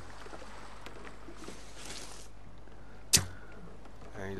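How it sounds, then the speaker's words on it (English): A single sharp arrow release snaps out once against a quiet low hum while a shark is hunted from a boat in The Forest, preceded by faint water swishes and followed by soft paddling. "And you just want to shoot him with your arrows."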